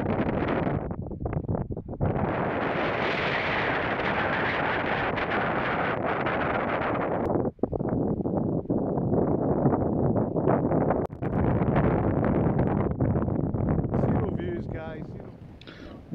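Wind buffets and rattles a Nortent Vern 1 tent during a freezing wild camp, a loud continuous roaring flutter with brief lulls and gusts, close to the microphone and without talk.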